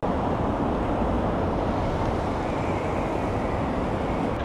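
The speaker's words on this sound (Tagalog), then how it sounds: "Ipapark yata niya doon yung motor niya." Steady street din on a Tokyo road at night, dense traffic rumble with a continuous engine drone, likely a motorcycle pulling in to park nearby, loud and unbroken throughout with no voices.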